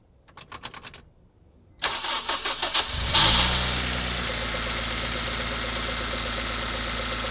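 An imported car's engine cranks in a quick run of pulses, pauses, then catches and revs loudly before settling into a steady, close idle.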